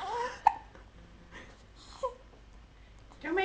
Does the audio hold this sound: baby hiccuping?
yes